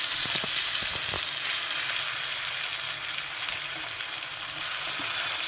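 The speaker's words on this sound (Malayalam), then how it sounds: "നമ്മുടെ മീനിൻ്റെ ഒരു സൈഡൊക്കെ ആയിട്ടുണ്ട് ഇനി നമുക്ക് അടുത്ത സൈഡ് മറച്ചിട്ട് കൊടുക്കാം" Fish sizzles steadily in a frying pan, a dense continuous hiss with a few soft knocks near the start as it is turned over.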